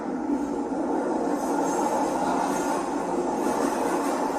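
An elevated train rumbles past nearby with a steady, loud roar and a metallic wheel hum that holds throughout, with no voices.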